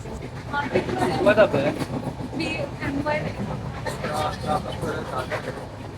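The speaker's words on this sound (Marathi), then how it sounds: "चला ट्रेन सुटली" Mumbai-bound train pulling away and running, a steady broadband rumble with rail clatter throughout, voices talking over it in a crowded carriage.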